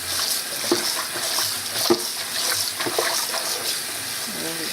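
Spinach leaves being rinsed under a running kitchen tap, a steady wash of flowing water with soft splashes and a few light knocks, close by.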